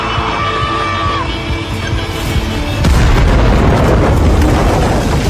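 A loud, rumbling explosives blast at a cave erupts partway through and sustains a heavy roar, preceded by tense background noise and a faint shout.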